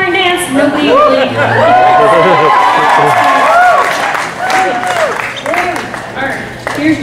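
A live show audience in Branson claps and cheers in a loud, continuous wash of applause and whoops, with crowd chatter mixed through and a voice briefly audible over it.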